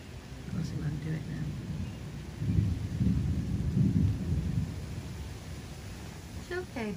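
Low, rolling thunder from a thunderstorm rumbles through the middle of the stretch, with a few faint voices and a brief higher call near the end.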